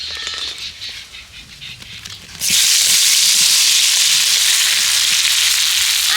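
Raw mango pieces drop into hot spiced oil for a sour-spicy pickle. After a quieter stretch of faint stirring, a sudden loud burst of hissing sizzle starts and holds steady and close until the end.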